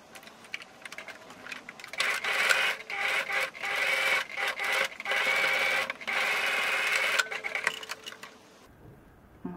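A domestic sewing machine stitches fabric along a seam in several rapid whirring bursts with short pauses between, close and fairly loud, ending abruptly.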